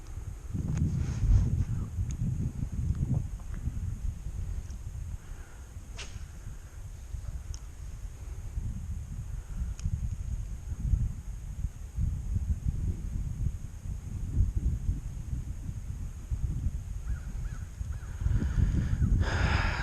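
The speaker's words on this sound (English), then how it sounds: "This wind can die down any time now." Steady wind blows outdoors on a fall bass fishing outing, a continuous low rumbling buffet lasting throughout with no talk, occasional faint bird calls over it.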